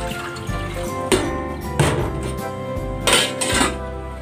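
Water pours into a cooking pot, about 1.2 liters, with clanks and knocks of the metal pot against the stove and splashy gurgling throughout, loud and close with no talk.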